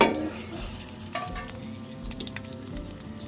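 A tempering of dry red chillies sizzles in hot oil, heard close as a steady crackling hiss with soft stirring clatter and a few faint knocks.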